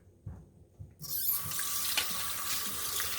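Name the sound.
rinsing robot mop part under running tap water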